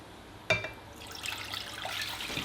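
Water poured into a cooking pot, two cups' worth: a sharp clink at the start, then a steady close pour that runs continuously to the end.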